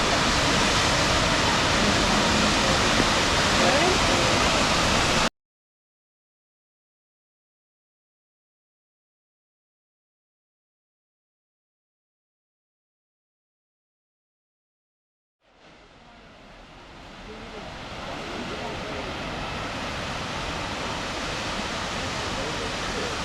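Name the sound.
Hwy Falls waterfall in DuPont State Park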